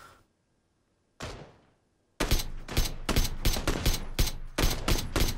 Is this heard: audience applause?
no